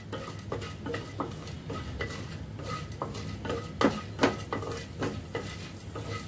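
Chana dal roasting in a spoonful of oil in a pan, stirred with a utensil that scrapes and clinks against the metal in irregular strokes over a faint, steady sizzle; no talking.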